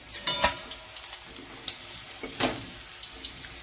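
Marinated cauliflower pieces fry in hot oil, a soft sizzle broken by clinks and stirring scrapes, close and fairly quiet with no talk.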